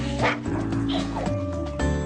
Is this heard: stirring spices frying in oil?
no